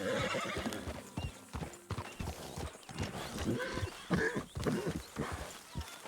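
A horse whinnies amid steady clip-clop of hooves, with rhythmic thuds and rustling throughout, fairly close and busy, in the video game Red Dead Redemption 2.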